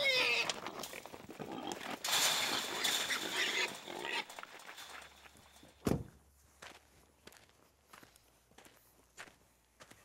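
Trapped wild hogs shuffle and grunt in a pen, with busy scuffling and footsteps at first, then scattered short grunts and one sharp loud snort standing out against quieter surroundings.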